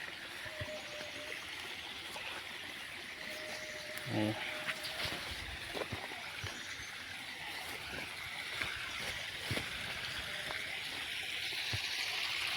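Floodwater streams in from one side in an Aravalli village, a steady washing rush under someone talking, with a few short knocks and clicks.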